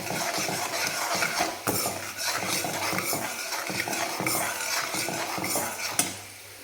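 Dried black nightshade berries are sautéed in oil in a pan, giving a soft sizzle under repeated scraping and stirring of a metal spoon, with a clink near the end.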